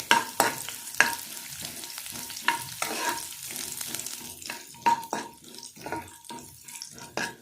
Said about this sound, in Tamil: கடலைப்பருப்பு ஒரு ஸ்பூன் போட்டுக்கலாம் எல்லாம் சேர்த்து நல்லா பொரியட்டும்